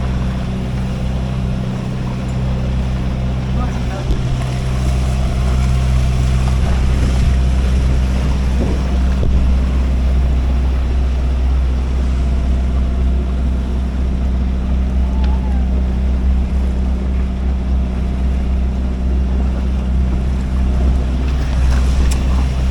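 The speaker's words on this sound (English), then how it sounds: "it's a lot of boat traffic coming in and out of here" Boat traffic entering Newport Beach harbor, heard from aboard a sailboat: a steady, loud low engine drone and water wash, with wind noise throughout and no break in the sound.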